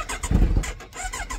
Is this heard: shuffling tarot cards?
no